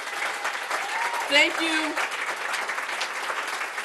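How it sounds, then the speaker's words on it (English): Audience applause for a poetry-press editor at a bookstore poetry reading, a broad steady patter of clapping throughout with a brief spoken thanks over it. "Round of applause for Scott."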